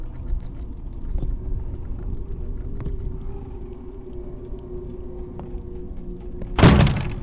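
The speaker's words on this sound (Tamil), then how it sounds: "கதவு மூடிடுச்சு." A door closes in a horror video game, a single broadband thud near the end after a stretch of low, rumbling ambient drone with faint scattered knocks.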